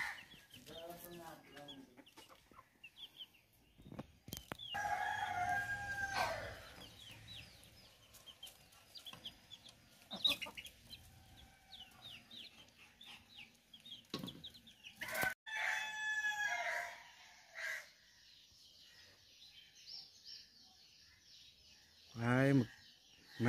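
Village hens cluck on and off while a rooster crows loudly several times, with bursts near and far, in cold morning air and with people talking at times.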